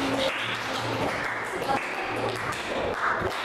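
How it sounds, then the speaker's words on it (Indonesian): A class claps hands in applause, with brief bursts of clapping mixed in with voices talking and background noise in a room. "Kita tepuk tangan untuk kita dulu."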